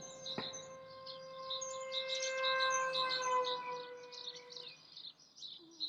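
A wailing siren sound effect rises and holds in steady sustained tones for about five seconds, loud and close, with a brief click near the start and faint chirpy overtones, fading out near the end.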